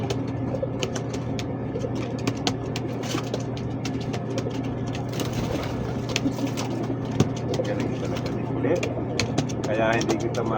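Kulit, a pet pigeon kept aboard a ship, coos softly amid a busy background of mechanical clicks and rattles, with a steady low hum underneath and people talking nearby.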